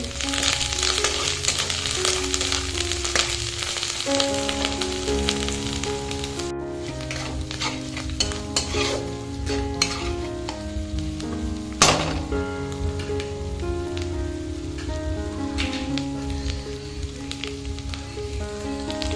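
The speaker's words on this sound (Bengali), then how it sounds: "সব মশলাকে ভালোভাবে কষিয়ে নেব।" A spice masala of cumin powder and coriander powder fries and is stirred in a pan for a bhola fish curry, a steady sizzling hiss lasting throughout beneath tonal background music.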